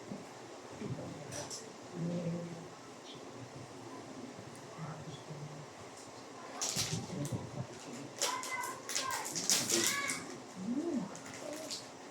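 A bird coos low and then gives several short, higher calls, while people talk quietly nearby.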